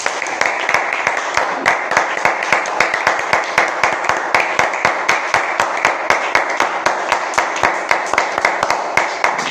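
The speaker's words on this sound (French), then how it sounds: "Applaudissons pour le Seigneur Jésus." A church congregation claps in praise during a revival service, with loud, fast, steady rhythmic beats from many hands in unison, continuing without a break for nearly ten seconds.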